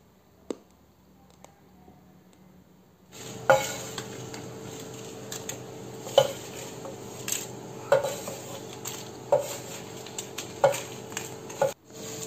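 Dry red chillies roasting in a pan for idli podi, with a spatula scraping and clinking against the metal in regular strokes every second or so over a soft steady frying hiss.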